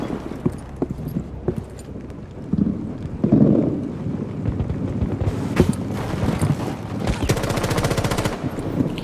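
Gunfire in a Rainbow Six match, scattered sharp shots and thumps early, then sustained rapid bursts with gritty noise toward the end, fairly loud amid game ambience.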